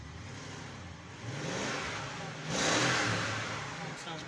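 A 2003 BMW X5 E53 with the 4.4 V8 engine idles and then revs twice, rising and falling in a steady rumble heard at moderate distance, fairly faint, with some talk mixed in.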